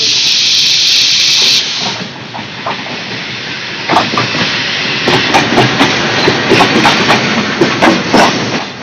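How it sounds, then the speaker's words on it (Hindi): A train pulls into a station, opening with a loud steady hiss that cuts off, then the close, rolling clatter of wheels and rattling cars as carriages pass at a slowing pace. "ट्रेन आ गई।"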